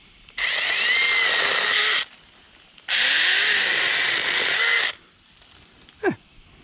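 Small Sainlogic mini chainsaw trimming tree branches outdoors: two loud, steady cutting bursts of about two seconds each with a short pause between, then a brief whine as the motor spins down.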